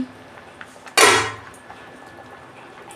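A metal lid lifted off a pot of chicken curry with potatoes: one sharp, loud clanking scrape near the one-second mark, ringing briefly before fading into a quiet room.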